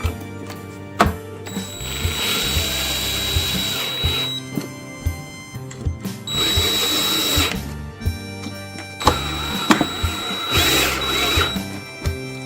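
A power drill tightens screws to mount a controller plate, with loud bursts of whirring motor and short pauses between them, close up.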